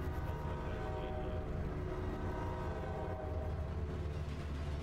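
A detailed train in the horror video game Vladik Brutal, sounding as a steady, loud rumble with sustained horn-like tones running throughout.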